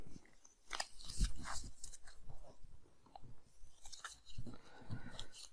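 Board game cards being shuffled by hand for Best Candy on the Block, a run of close, crisp riffling and snapping bursts with short pauses between.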